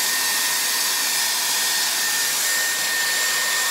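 A Dyson Airwrap hair styler with a styling attachment fitted blows a loud, steady, close-up whoosh of air that holds constant throughout without interruption.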